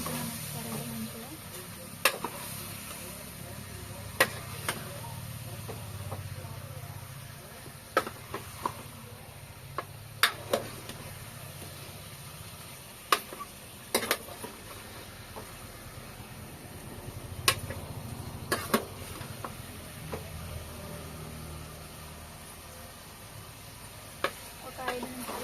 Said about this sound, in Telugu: ఒక 5 నిమిషాల పాటు ఇలా హై ఫ్లేమ్లో పెట్టుకొని ఇలా అయితే ఫ్రై చేసుకుంటున్నాను నేను.